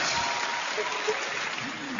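A comedy show audience in a large venue applauding, a brief dense spread of clapping with scattered voices mixed in.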